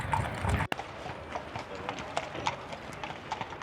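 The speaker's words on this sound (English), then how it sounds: "That's the beach police. Are they the beach police? Look at that. And they're nice horses." Beach police horses in the seaside town of Puerto Madryn, Argentina clop along with a quick, uneven run of hoof strikes on hard ground at moderate distance, after a brief burst of louder noise at the start.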